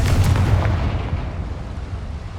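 A Confringo spell blast in Hogwarts Legacy bursts loudly with a heavy booming impact, then rumbles and crackles as it decays over a couple of seconds.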